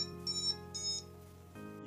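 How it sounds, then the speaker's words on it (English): A variometer beeps high in short repeated bursts as it climbs, two quick beeps then a longer tone, over a steady low hum. "So when it climbs, after a few centimeters it starts to beep."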